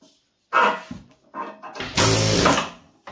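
A pneumatic impact wrench with a flat bit fires in short, harsh bursts, then one long loud rattling blast, close by, with brief pauses between, while installing a low-rise car lift.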